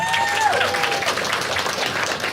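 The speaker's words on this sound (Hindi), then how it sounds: "सब लोग ताली बजा दो" An audience at a stand-up comedy show breaks into steady, full applause, a dense wash of clapping that carries through the whole moment.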